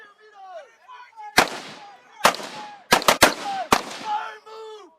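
Several sharp, loud rifle shots ring out from US Marines during a squad attack on a range, with bursts at irregular intervals mixed with shouted commands and voices.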